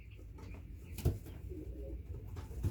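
Cooing from white pigeons kept near quails, low soft calls repeating through a steady rustle, with a slightly louder coo about a second in and another near the end.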